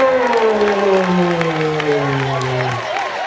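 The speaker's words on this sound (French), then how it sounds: "On applaudit très fort" A church congregation on a Lenten pilgrimage in the Diocese of Daloa applauds loudly and steadily, with sustained voices ringing over the dense clapping before it thins near the end.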